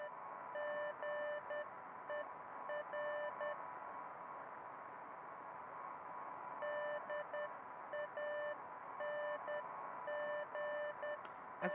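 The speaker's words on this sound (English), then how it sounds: "A faint electronic sound floated in the air." Electronic Morse code beeps in the Beacon Pines video game, a steady tone keyed on and off in short and long pulses, repeating in groups over a constant hiss, fairly faint.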